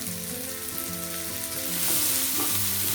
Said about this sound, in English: Stir it for some time on medium flame.